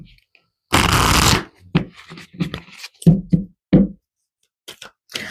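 A deck of cards is shuffled for a reading in a quiet room, one loud riffle burst lasting under a second, then softer taps and slides as the cards are handled and squared.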